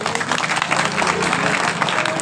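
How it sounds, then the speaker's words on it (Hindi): A crowd applauds in welcome of a former Rajya Sabha MP at a Bahujan Samaj Party gathering, with steady, dense clapping that continues without a break through the short stretch. "मैं चाहूंगा कि जोरदार तालियों से उनका स्वागत करें।"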